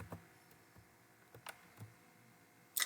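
Light, sparse keystrokes on a computer keyboard entering numbers, a few soft separate clicks close by with a sharper tap at the end.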